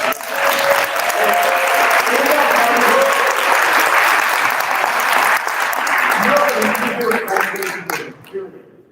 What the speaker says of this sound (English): everybody in this room, please, let's give a round of applause to Link Hoeing for putting this together.